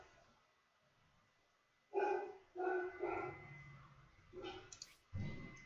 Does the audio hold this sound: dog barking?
yes